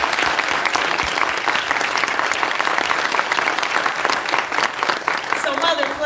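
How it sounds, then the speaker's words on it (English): A live audience at an event honoring an oldest living survivor claps loudly and continuously, a thick wash of applause that stays steady throughout, with a faint voice emerging near the end. "A round of applause for our"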